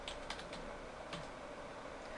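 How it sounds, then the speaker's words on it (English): Light, quick typing on a computer keyboard, a few soft clustered key taps over a steady faint background hiss. "Once you've typed in the last 4 digits of the client's Social Security number"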